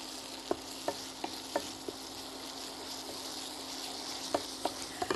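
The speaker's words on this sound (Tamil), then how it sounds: "இப்போ இஞ்சி பூண்டு விழுது வெங்காயம் விழுது சேர்த்து போடலாம்" Ginger-garlic and onion paste frying in a pan: a steady, moderate sizzle broken by sharp utensil taps and stirring knocks, heard up close without speech.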